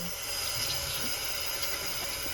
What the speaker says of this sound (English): I'll place it under the running water